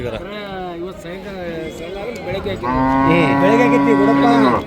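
Holstein Friesian cattle moo at a Sunday morning cattle market in Karnataka, one long loud close moo rising over market chatter, with other voices and lowing earlier.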